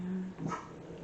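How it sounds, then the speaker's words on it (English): Dogs barking and growling outside a house as children walk by after getting off a school bus, a brief bark rising over a steady background hum. "Can you hear the dogs growling?"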